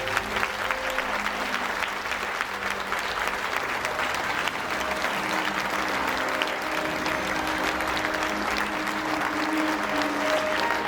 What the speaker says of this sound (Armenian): այս ծափերը, որ պետք է խնդրեմ ձեզանից, ուզում եմ ամենաբարձրը լինեն